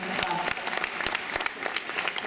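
Audience applause at the Miss Egzotica 2018 beauty pageant, a steady dense clapping from a crowd that continues throughout with a voice speaking over it.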